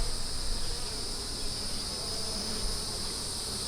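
Honey bees buzzing around an open hive, a dense continuous hum that stays steady and even from start to finish with no voices.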